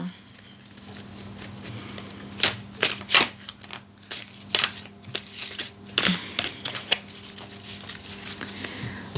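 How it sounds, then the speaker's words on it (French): Close riffling and slapping bursts of a full 78-card Tarot de Marseille deck being shuffled by hand, irregular rustles and snaps over a faint hum. "Donc là, on fait le tirage avec les 78 cartes."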